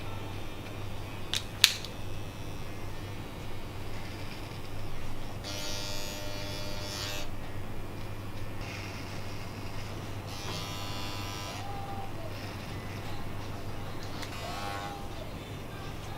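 Electric hair clippers buzz softly while trimming a long beard at a barbershop, a faint steady hum with brief bursts of louder cutting.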